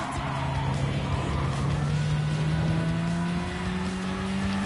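Race car engine droning steadily in Gran Turismo 7, its pitch slowly climbing as it corners on very poor tyres, with a continuous loud motor tone and faint tire scrubbing throughout.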